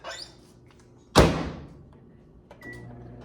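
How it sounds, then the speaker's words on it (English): A single close, loud thunk as a microwave oven door is shut after food goes in, with a brief ringing decay, faint handling noises before it and a soft click and hum afterward. "put this in the microwave"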